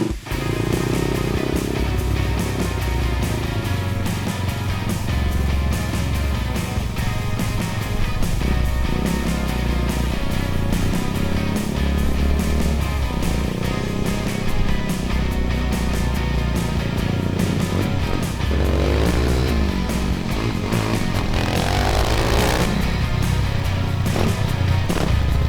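A minibike powered by a Redline 212 engine drives along, its engine droning loud and steady throughout with shifting revs and no talking.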